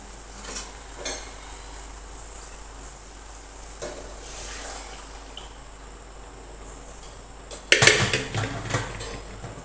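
Dal goes into a hot cooking pot with a sudden loud sizzle and splash, after a quiet stretch of soft kitchen clinks and stirring.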